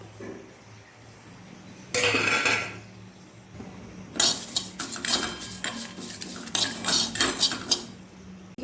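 Whole spices for mango pickle being dry-roasted and stirred in an empty pan: loud bursts of metallic scraping and clatter come in irregular clusters, close up, with quieter stretches between.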